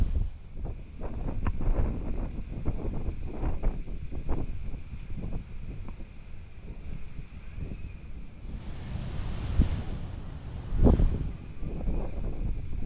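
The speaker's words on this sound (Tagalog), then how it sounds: "medyo malakas ang ihip ng hangin dito" Strong wind on Siargao Island buffets the microphone in a continuous roar, swelling into heavier gusts near the end, with no voices.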